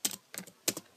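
A few quick bursts of keystrokes on a computer keyboard, three short clusters of soft, close clicks separated by brief pauses, heard alone.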